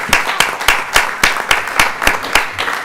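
Rhythmic applause from a small group at a city council session, regular beats about three per second, loud and close, with no speech over it.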